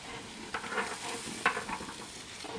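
Garlic paste sizzles and crackles in a hot pan of mutton tehari with stirring scrapes, close and steady with a couple of sharper splashes.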